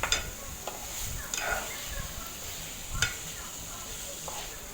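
A fish curry with chili and tamarind pulp being stirred gently in a pan: soft scraping strokes at a slow, uneven rhythm over a faint steady sizzle, heard up close.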